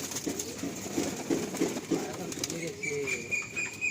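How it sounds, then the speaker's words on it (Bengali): Pigeons leaving a loft coo in a steady series of low, rhythmic calls close by, while a person talks and faint background hum runs underneath. "এই দেখুন সব পায়রা বেরিয়েছে"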